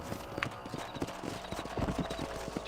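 Galloping horse hooves from Red Dead Redemption 2 pound out a steady, close clip-clop rhythm for the whole stretch, with a brief whinny-like cry partway through.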